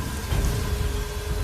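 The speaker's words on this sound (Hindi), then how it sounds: "बस बारिश की लगातार ध्वनि" Steady rain falls in a dark, deserted night setting, a continuous dense patter with low rumbling underneath, even in level and unbroken throughout, with no voices.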